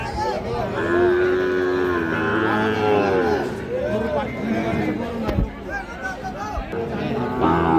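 A cow moos in a long low call near the start amid a busy crowd of voices talking at a cattle market selling Sahiwal bull calves, with further distant lowing in the background.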